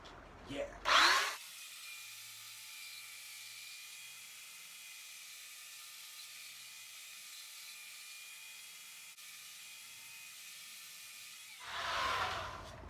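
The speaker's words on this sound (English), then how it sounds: "The nice thing for using a belt sander for something like this" A belt sander works over reclaimed wood for a coffee table, a steady, continuous whirring drone running unbroken for about ten seconds, with brief louder handling noises at the start and end.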